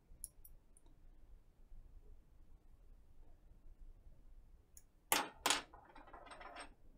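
A servo wire is pushed into its connector on a Goblin build with BK DS-3002HV servos. A few sharp, close clicks come quickly one after another after a quiet stretch.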